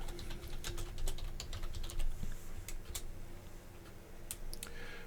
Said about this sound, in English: go ahead and type the folder name in here